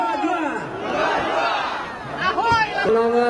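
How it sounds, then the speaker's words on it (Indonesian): Thousands of supporters at an outdoor political rally in a field in Medan, a dense crowd roaring and cheering continuously with rising shouts and whoops, loud and close. "Riuh sorak-sorai ribuan pendukung menyambut kedatangan calon wakil presiden nomor urut 3 Mahfud MD di lapangan Astaka Pancing, Medan"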